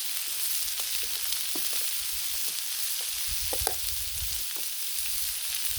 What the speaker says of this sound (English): slap the buns on the butter, and they'll only take a second to toast